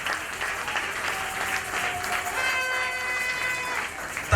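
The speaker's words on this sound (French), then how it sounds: "Acclame pour Jésus." A church congregation at a Sunday service applauds for Jesus, dense sustained clapping filling the space, with a sung or shouted tone rising over it partway through.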